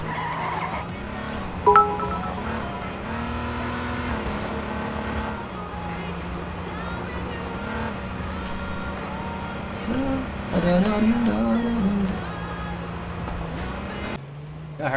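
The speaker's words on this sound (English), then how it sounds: "I heard a car." A car engine in the video game H1Z1: King of the Kill hums steadily with rising and falling pitch as it drives, with a brief tire-like squeal, all sounding synthetic and game-like.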